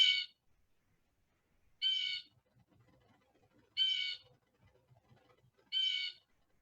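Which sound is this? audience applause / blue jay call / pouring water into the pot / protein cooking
blue jay call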